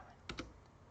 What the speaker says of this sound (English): you have to type Python -m